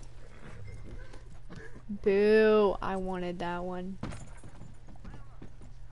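Hooves of a horse in the video game Red Dead Online clip-clop softly in the background while a person talks over them.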